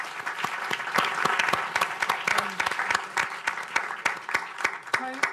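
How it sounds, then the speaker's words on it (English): A conference audience at a global education panel gives a round of applause, with sharp individual claps standing out clearly in a steady, moderately loud burst. "So please give everybody a round of applause."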